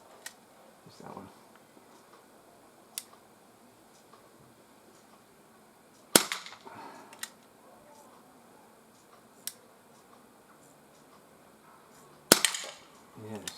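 Walther CP88 air pistol fired outdoors, a few sharp isolated cracks spaced seconds apart over faint background, with a doubled shot near the end.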